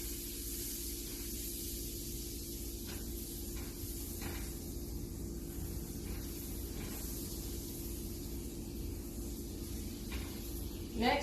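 Butter melting in a heated pan for an omelet gives off a soft, steady sizzling hiss that stays fairly faint and even throughout, with a few small crackles near the end.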